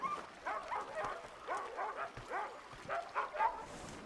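Several dogs whine and yip in a steady, moderately close run of short, rising calls, with no talking over them.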